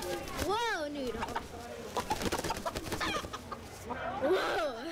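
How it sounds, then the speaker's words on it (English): Pet Easter Egger chicken at a county fair in Sauk County, clucking and crowing in a few bright, wavering calls at the start and again near the end, with people talking close by throughout. "We have my chicken Noodle. Whoa, Noodle."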